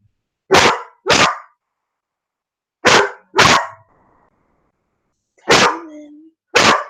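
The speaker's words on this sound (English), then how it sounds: "he's going to bark for a little while" A dog barks in six sharp, loud bursts, paired and spaced apart, close by, with a person's brief spoken words between the barks.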